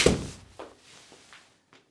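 A Ping iCrossover golf club strikes a ball with a single sharp, close thwack at the start, followed by faint scuffs and small knocks as it fades.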